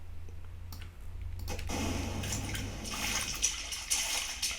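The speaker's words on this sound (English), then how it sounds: "So that's another one for water splashing." Water splashing sound effect, a low rumble swelling into a dense, bright wash of splashes and bubbly droplets, with a few sharper spatters near the end, close and moderately loud with no voices.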